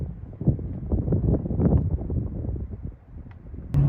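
Strong outdoor wind at an off-grid house building site buffets the microphone in uneven, rumbling gusts that swell and ease. No one speaks.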